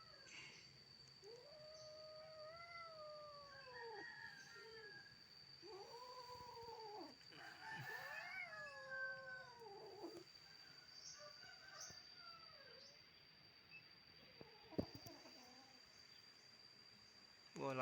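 A big cat and a small orange cat fight, trading long rising and falling caterwauls and yowls close by, with brief scuffles and a sharp thump near the end, over a faint steady electrical whine.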